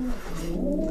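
Young pigeons coo steadily inside a pigeon loft, a low, continuous throaty murmur close by with no voices over it.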